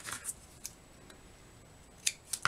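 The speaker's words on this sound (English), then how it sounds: "I think I just found my scissors. Did I? I'm so sorry for the rattling." Scissors rattling and clicking in short, sharp bursts, a couple at the start and a cluster near the end, with quiet between.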